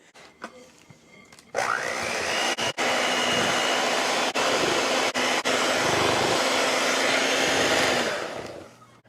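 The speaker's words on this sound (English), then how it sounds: "Now I come into the hand mixer, and we don't add anything to this." An electric hand mixer mashes cooked sweet potatoes with no liquid added, giving a loud, steady motorized whir that spins up abruptly, runs unbroken for about six seconds, then winds down.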